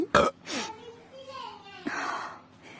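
A loud, abrupt burp opens a Rajasthani comedy scene and is followed by groaning, voice-like vocal sounds.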